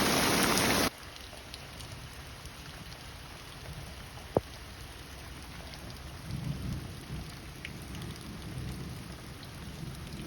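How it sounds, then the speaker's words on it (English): Rain falling steadily at a campground, an even hiss of drops on surfaces throughout, with a brief louder burst at the start and no voices. "Of course, rain does not stop us whatsoever."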